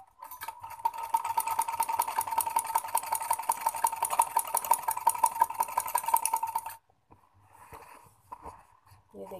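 A sewing machine runs steadily at close range, stitching the first line on trouser fabric with an enlarged stitch size, a fast regular whirring clatter that stops abruptly, followed by brief quieter handling noises.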